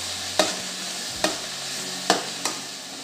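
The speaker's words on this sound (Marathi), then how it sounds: "आता मोड आलेली मटकी टाकते।" Sprouted moth beans stirred in a hot pan with a steady sizzle underneath and four sharp scraping clacks of the spoon against the pan, close up.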